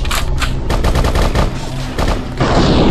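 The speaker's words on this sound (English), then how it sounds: "Now you gotta shoot it." Rapid bursts of gunfire in the video game BloodRayne, loud and close, with dense repeated shots running throughout and a heavier, noisier stretch near the end.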